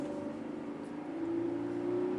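Six-cylinder gasoline engine of a Chevrolet Colorado pickup running at low revs below 2000 rpm, a steady deep hum that swells slightly in the second half, heard from inside the cab with no talking.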